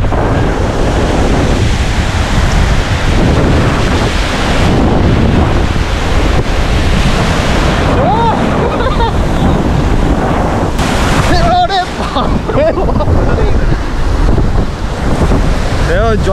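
Sea waves crash against the shore on the coast between Puri and Chilika, a loud, continuous surf roar heavily buffeted by wind noise throughout.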